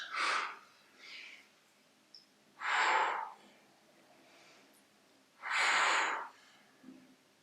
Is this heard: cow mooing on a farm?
no